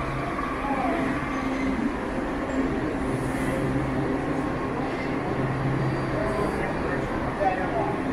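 Rumbling interior of a Washington DC Metro Blue Line subway train, a steady low rail drone with faint squeal, continuous and close, with station announcements and voices over it.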